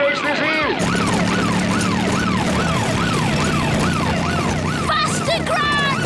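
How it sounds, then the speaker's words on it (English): A cartoon police car siren wails in a steady, loud up-and-down sweep over a rumbling engine and busy racetrack commotion, lasting throughout. "And now there's a police car."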